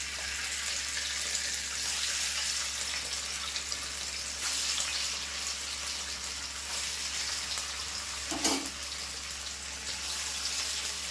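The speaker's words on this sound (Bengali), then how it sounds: "এখানে আমি পনিরটা দিয়েছি ভাজা ভাজা হওয়ার জন্য।" Paneer pieces fry in hot salted oil, a steady, even sizzle and bubbling hiss throughout, with one brief clink near the end, no talk.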